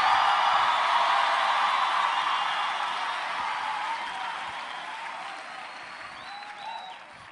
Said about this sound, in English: come on, clap them hands and scream hallelujah